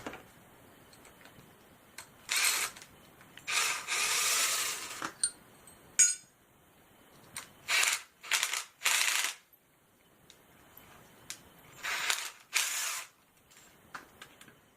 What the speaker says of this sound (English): You're going to remove the screw from each end.